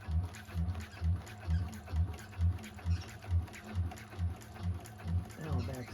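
A 1341 cylinder arm sewing machine back stitches TPU vinyl, giving a steady, rhythmic thumping pulse about twice per second, fairly close, with faint speech now and then.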